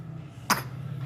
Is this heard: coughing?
yes